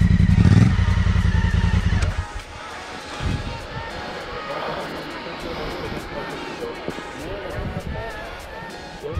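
A motorcycle engine rumbles loud and close on an adventure trip across Norway, roaring for the first two seconds before dropping to a quieter idle under clattering and voices.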